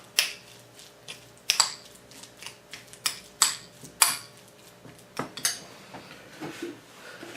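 A utensil stirs red onion and parsley into a crab stuffed mushroom filling with no breadcrumbs, making a close series of irregular clinks and scrapes against the bowl with quiet pauses between.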